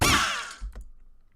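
A steel plate impact from the video game Fun Run Arena: one sharp metallic clang with bright, shimmering ring that fades quickly, followed by a low dull thump; brief, close and alone.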